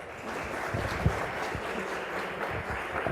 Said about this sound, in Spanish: pedimos nuevamente un fuerte aplauso